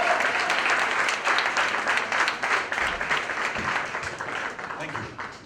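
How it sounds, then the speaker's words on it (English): Enthusiastic applause from a large audience at a book launch, dense rapid clapping that holds steady and slowly tapers off, with voices mixed in. "big round of applause, Mr. Harsha Bhogle."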